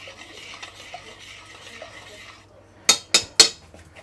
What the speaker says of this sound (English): We'll just put a little bit of red wine in there, stir it up